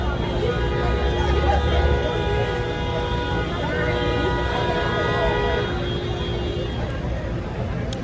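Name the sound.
car horns honking in city traffic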